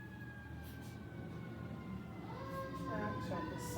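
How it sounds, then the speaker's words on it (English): Sirens wail steadily in the background beneath a calm voice talking, the rising tones growing a little stronger toward the end. "the sirens just sending you deeper and deeper and deeper"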